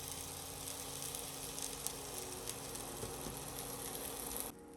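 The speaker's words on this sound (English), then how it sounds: "As the oil begins to warm, gently add all the drained rice to the pan" Drained rice gives a soft, even sizzle in warming olive oil in a pan on the stove. The hiss is faint and continuous, with no voices, and cuts off at the end.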